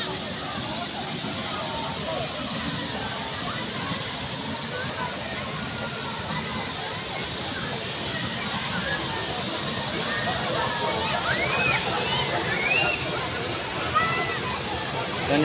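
A low waterfall at the Lego Moro nature park makes a steady, close rushing roar of falling water, with faint voices of visitors in the background.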